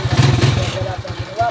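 A repaired motorcycle engine running and revving in short pulsing bursts, loud and close, with a clattering rhythm and someone talking over it.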